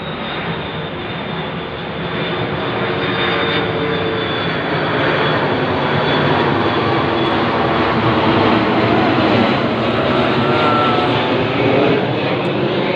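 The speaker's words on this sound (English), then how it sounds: "Right over my head, that plane, as they go over" A loud airplane roars steadily overhead, a broad continuous rumble that swells slightly and holds for the whole stretch.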